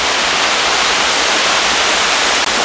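Waterfall in the Haut Jura near the Roches d'Orvaz, a steady, full-bodied rush of falling water that fills the scene evenly and loudly without a break.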